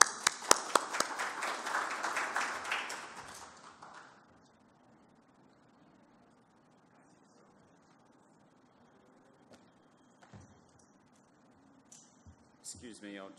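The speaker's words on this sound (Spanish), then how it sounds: "Recibimos a Stuart con un cariñoso aplauso" A conference audience claps to welcome a speaker, a few sharp claps swelling into brief applause that fades out within about four seconds, followed by near silence with faint stirring.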